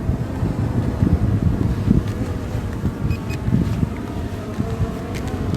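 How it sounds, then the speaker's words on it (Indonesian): Strong wind blows across the microphone during an SJRC F11 Pro 4K drone flight, steady roaring buffeting with gusty low rumble throughout, loud and close. "Kencang sekali angin di sini."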